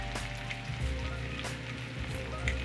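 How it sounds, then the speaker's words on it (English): Celery and onions with fresh sage frying in a pan, a steady, close sizzle with faint crackles and no talking. "we're gonna cook this mixture until the celery and the onions have softened a good bit"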